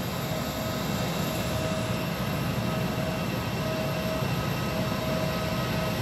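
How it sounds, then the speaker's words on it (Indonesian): An airliner taxiing toward the airport apron, a steady, loud, unbroken engine roar and whine with no voices over it. "Pesawat sudah memasuki taxi ke arah apron."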